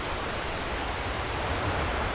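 A river stream near the Lata Jebus waterfall flows with a continuous rushing hiss of water, steady and unbroken, with no voices.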